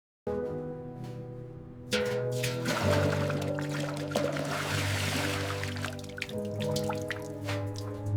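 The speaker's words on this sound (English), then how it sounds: "First, we apply the cleaning solution to break down these mineral deposits" Cleaning solution drips and trickles onto the parts of a 1937 Austin Seven Ruby during restoration, a steady close patter of liquid that thickens into a fuller pour partway through, with no voices.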